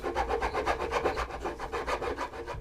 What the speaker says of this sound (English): I'm only using it to file the bottom.